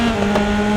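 An F3 race car's tyres locking up in the RaceRoom racing game at Dubai, a loud steady engine drone with a sustained squealing tone layered on top, continuous and close for under a second.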